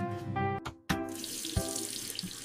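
A tap turned on at a sink: a brief squeak and clunk of the handle, then a steady, close rush of running water splashing into the basin.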